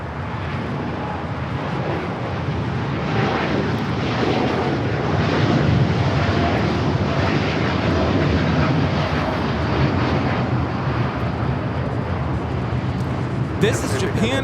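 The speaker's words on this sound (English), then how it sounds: "This is Japan Airlines Flight 69 taking off to Osaka on the 787-9 Dreamliner." Japan Airlines Boeing 787-9 Dreamliner taking off from LAX bound for Osaka, a heavy sustained engine roar that swells at the middle and stays loud, with a voice faintly beneath it.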